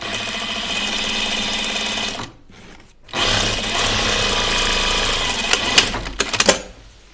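A sewing machine stitches a Noodlehead Making Backpack in navy blue thread, running steadily and loudly, pausing for about a second, then resuming with a few sharper clicks near the end.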